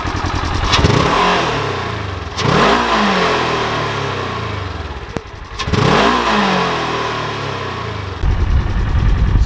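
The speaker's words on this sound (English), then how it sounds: "Go ahead and let them see how the exhaust sounds stock." A 2018 Polaris Ranger XP 1000 side-by-side with its stock exhaust revs repeatedly, each throttle blip rising and falling in a loud, close engine roar, with a steady idle rumble between pulls.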